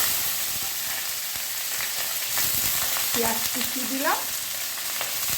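Chopped onions fry in hot oil in a pan with bay leaves for a Bengali dalna, making a loud, continuous sizzle, with a single short spoken word partway through.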